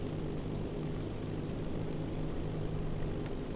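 Supermarine Spitfire Mk XIX piston engine in MSFS 2020 rumbles at a steady low idle while taxiing, a constant loud propeller drone with no talk.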